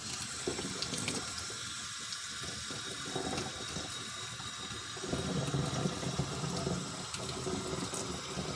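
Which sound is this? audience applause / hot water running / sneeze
hot water running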